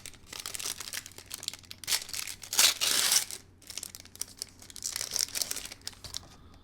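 Star Wars Unlimited foil leader cards are unwrapped from their packaging with close, loud crinkling and tearing of plastic in bursts, peaking in a sharp rip midway.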